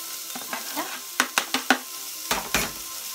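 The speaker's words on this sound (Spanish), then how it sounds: "le voy a echar para que todo se dore un poquito" Carrot and vegetable pieces fry in a pot for mushroom soup, a quiet sizzle broken by several sharp clinks and scrapes of a utensil stirring against the pot.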